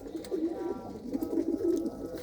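Pigeons in a breeding loft coo softly and repeatedly, a low bubbling call at moderate distance with no voices.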